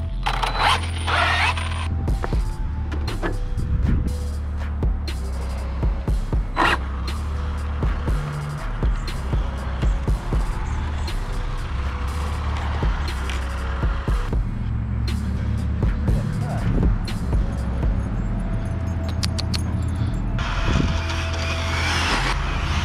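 An Arrma RC car speeds around a parking lot, its motor buzzing steadily for the whole stretch with passes surging louder and fading, plus occasional sharp bursts and outdoor background noise.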